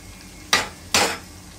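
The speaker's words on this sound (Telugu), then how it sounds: "అర్ధరాత్రులు మా ఇంట్లో ఫ్రైడ్ రైస్ చేసుకుంటున్నాను నేను" Fried rice being cooked in a pan at midnight in a home kitchen, with two short scraping strokes of a utensil against the pan, close and distinct over quiet background.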